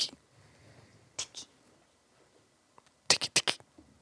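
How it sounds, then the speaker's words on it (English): Sharp, dry knocks of a crawling creature's elbows striking pavement in a horror scene: a lone hit, a quick pair a second later, then a cluster of four rapid taps near the end, close and fairly loud over a faint hiss. "It's the sound of elbows hitting the pavement."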